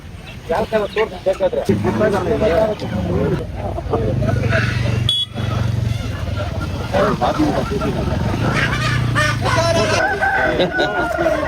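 Native country chickens at a village poultry market in Kolar district, Karnataka, with a rooster crowing and hens clucking amid a busy crowd, people talking throughout and a steady hum in the background.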